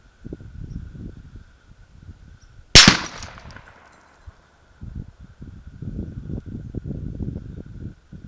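A single sharp, loud crack of a 300 RUM rifle firing a 210-grain solid at a car alternator, with a brief ringing tail and low outdoor rumble before and after.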